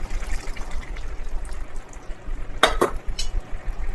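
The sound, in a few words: coconut milk poured into prawn curry and stirred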